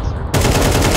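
Automatic gunfire in Counter-Strike 2 during a competitive match, a dense loud burst that cuts in abruptly after a quieter moment and keeps firing without pause to the end.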